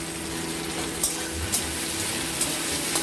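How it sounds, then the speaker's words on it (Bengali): Chopped tomatoes with salt stirred in a frying pan over a steady sizzle, with a few soft spatula scrapes spaced about half a second apart, close and moderately loud. "লবণ দিয়ে এটাকে ভালো মতো করে নাড়াচাড়া করে নেব।"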